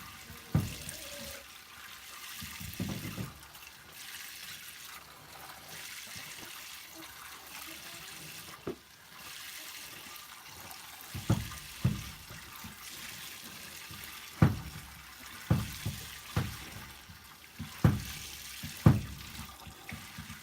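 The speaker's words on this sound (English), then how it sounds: "The milk bucket is getting full." Milk streaming into a bucket during milking, a soft continuous liquid rush with scattered louder splashes and knocks, faint and close, with some background noise.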